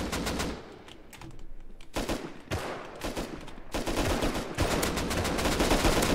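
Gunfire from the video game Rust crackles in rapid, dense bursts, with some single shots and sustained automatic volleys that build toward the end, heard without talking.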